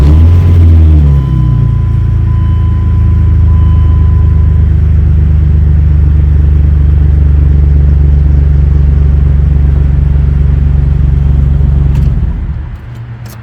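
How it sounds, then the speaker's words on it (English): Dodge Dakota engine turning over and catching, then running at a loud, steady low idle for about eleven seconds before shutting off and fading out. "I think I should get in it and turn the key and see if it starts."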